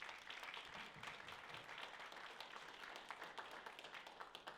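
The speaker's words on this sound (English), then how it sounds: "Let's give her a big round of applause for our mayor" Audience at a marketing networking panel applauds the mayor, a continuous even wash of clapping heard faintly and at a distance, with no voices over it.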